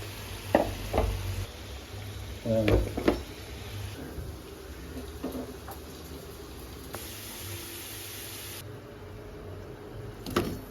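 Gujiya frying in hot oil during Holi cooking, a steady close sizzle with scattered scrapes and taps of a utensil, no talk over it.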